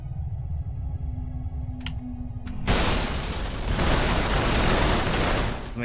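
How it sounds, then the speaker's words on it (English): A Halo 2 Rebalance explosion goes off after a quiet stretch with a couple of small clicks, then erupts into a loud, broad roaring blast that rumbles on for several seconds, close and dense, with no speech. "I do want to give it a much more satisfying explosion though"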